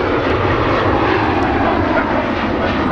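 A TAP Air Portugal airliner at Manchester Airport roars past, its jet engines producing a loud, continuous broadband rumble and hiss that holds steady throughout.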